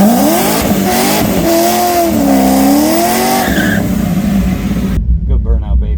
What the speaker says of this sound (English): Let's start with a good burnout.